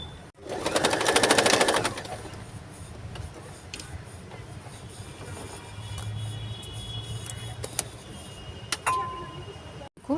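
A sewing machine stitches a newborn baby cap with a burst of fast, close whirring at the start, then softer mechanical running and scattered clicks, with some talking.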